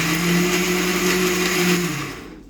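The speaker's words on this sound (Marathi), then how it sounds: "आपण हे वाटून घेऊयात मिक्सरमध्ये" A mixer grinder blends coriander with a little water for a village-style curd curry, giving a loud, steady, high whirring drone that runs continuously before winding down at the end.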